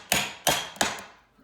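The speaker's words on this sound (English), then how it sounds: "I shoved it in and then I'm hammering, right?" A hammer strikes a laminate flooring plank into place, giving three sharp, evenly spaced knocks followed by a fourth, each ringing briefly before fading, close and loud with no talk.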